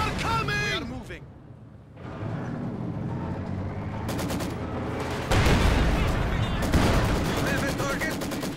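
Gunfire in Company of Heroes 2 crackles in rapid, overlapping bursts of rifle and machine-gun fire, loud and dense, while soldiers' voices shout over the battle.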